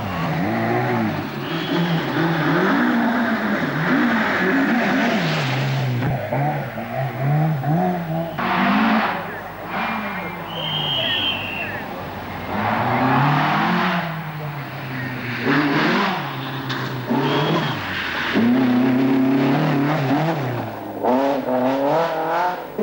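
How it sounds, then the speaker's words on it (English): 1984 RAC Rally cars roar and rev through woods in waves, rising and fading as they speed by, with occasional tire noise and faint voices underneath. "the cars roar through the woods"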